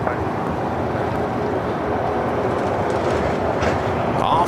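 Airliner taking off at LAX, bound for Seoul, a loud steady jet roar rumbling continuously and close for the whole stretch.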